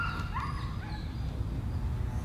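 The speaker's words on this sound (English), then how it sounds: "someone's walking a dog and they're getting a little excited" An excited dog gives several short yips and whimpering barks at moderate distance, with steady background noise underneath and no talking.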